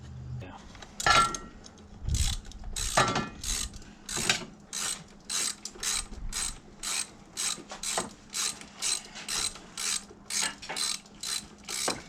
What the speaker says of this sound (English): We need to make a better one-size-fits-all ratchet socket.